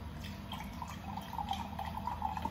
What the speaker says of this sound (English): Pour it in about like this much.